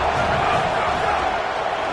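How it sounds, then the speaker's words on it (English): Stadium crowd in a College Football 27 video game at a South Carolina versus Kent State match, a dense, steady roar of cheering and noise that stays loud and unbroken throughout. "this crowd trying to help keep them there"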